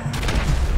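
A bomb blows up inside a house in a Free Fire game, giving a loud, close burst of rumbling crashes and crackling debris that lasts under a second with no one talking.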